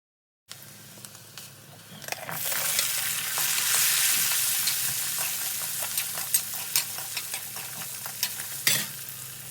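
Shallots and curry leaves frying in a hot pan for a Kerala-style clam roast, a steady close sizzle that swells after the ingredients go in, with scattered stirring clicks and scrapes throughout and no talking.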